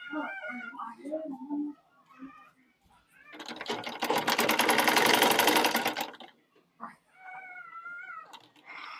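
A sewing machine slowly stitches the neckline of a newborn baby garment in one sustained, close, steady whirring run of a few seconds, with someone talking before and after.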